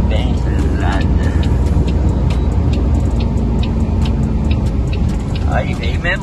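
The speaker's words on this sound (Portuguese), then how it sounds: "Aí veio mesmo o carro, ó." A car pulls up with a loud, broadband rumble and road noise that holds steady throughout, under people talking nearby.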